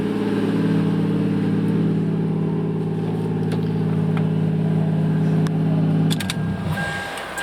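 A 280-horsepower Japanese car engine runs loud and steady close by, a low rumbling drone that cuts off abruptly near the end, leaving a brief fading tail.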